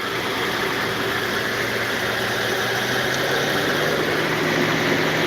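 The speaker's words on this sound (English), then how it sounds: "The fan just goes up and come down." Cooling fan of a 2008 Mercedes ML500 W164 whose air conditioning blows cold then warm, a steady loud whoosh and engine drone with a low tone rising gradually, close by, no voices.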